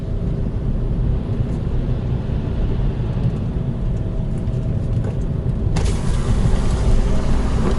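A car with a manual transmission cruises on a road at a steady distance behind another vehicle, giving a constant low engine and road rumble from inside the cabin, with a brief shift in tone near the end.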